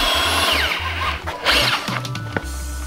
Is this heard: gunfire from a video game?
no